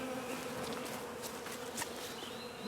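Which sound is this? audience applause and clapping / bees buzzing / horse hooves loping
bees buzzing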